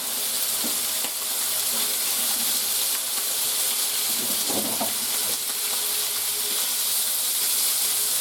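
Sausage sizzles and spits in a hot frying pan, a steady close crackling hiss with scattered pops and a brief stir-like scrape midway.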